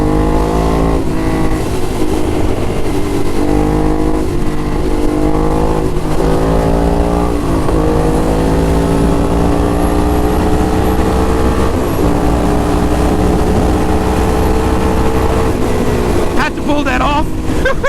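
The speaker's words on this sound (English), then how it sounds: "Loving that SE Project exhaust, guys." A motorcycle fitted with an SE Project aftermarket exhaust roars loudly and continuously, its engine revving up through rising gears with repeated shifts, ridden close by with wind noise throughout.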